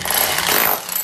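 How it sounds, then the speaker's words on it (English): A Bulldog hammer drill buzzes loudly and harshly for a moment, close up, in one short continuous burst, drilling a hole while a sliding glass door is installed. "Got the Bulldog hammer drill."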